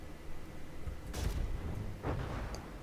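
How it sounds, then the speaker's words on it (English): Cannon shells explode in the naval combat game From the Depths, two muffled booming impacts about a second apart over a steady rumbling background, with a brief crackle after the second blast. "So you see the explosion was a bit inside of it now"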